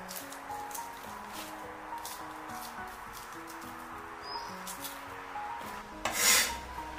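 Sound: knife cutting red onion into pieces on board

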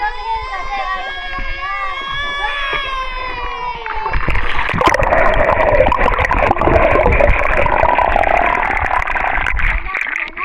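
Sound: strong current of a hidden forest stream

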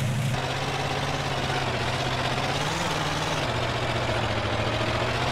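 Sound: vehicle engine running in the video game GTA San Andreas

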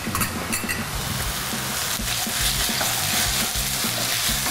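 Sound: onion with tomato paste frying and being stirred in a pan

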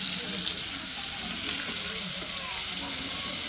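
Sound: paneer frying in hot oil

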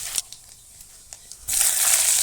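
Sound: nigella seeds (black cumin) added to hot oil

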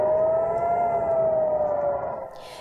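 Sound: air raid siren in Ashkelon, Israel

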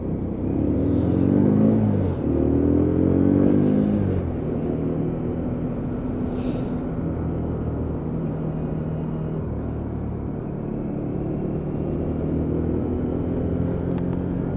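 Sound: Lexmoto Venom 125cc motorcycle riding and shifting gears

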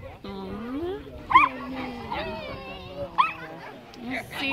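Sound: puppies playing or fighting

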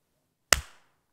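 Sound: hands clapping

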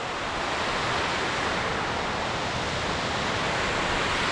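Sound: rapids at Murrokoski, water rushing downhill

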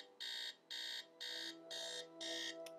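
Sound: alarm clock ringing in Nancy Drew video game

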